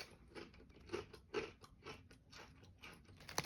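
Sour cream and onion potato chips being chewed close to the mic, with faint, irregular crunches and soft bites at a quiet level and no talking.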